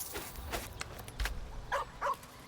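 A dog barks and yips a few times in Baldur's Gate 3, short sharp calls spread across the moment with quiet gaps between them, fairly close and alone without talk.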